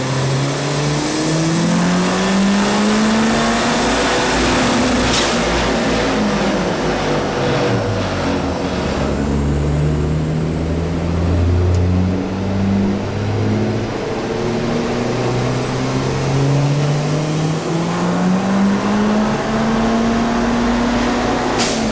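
A Honda Civic turbo coupe engine makes its first full pull, rising in pitch through several gear changes, dropping between shifts and climbing again. It is loud and close throughout, with no talking.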